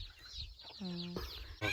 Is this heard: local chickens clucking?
yes